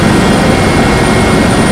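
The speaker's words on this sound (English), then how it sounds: "So we are in the helicopter" Loud, steady rotor and engine roar fills the cabin from inside a helicopter flying over jungle near Achiase in Ghana's Eastern Region, a dense unbroken drone with no talk over it.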